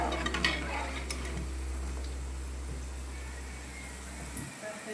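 A spoon stirs kadhi with pakoras in a pot on low heat, soft scraping and gentle bubbling close by while someone talks throughout.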